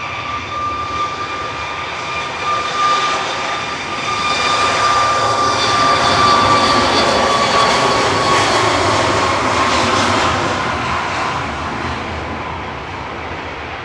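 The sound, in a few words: TUI Boeing 737 Max 8 jet departing Manchester Airport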